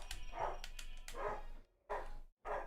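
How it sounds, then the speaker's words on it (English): Dogs bark repeatedly in a rough rhythm, fairly faint and at a distance, with brief gaps of silence between barks. "I'll do one more run after the dogs stop barking."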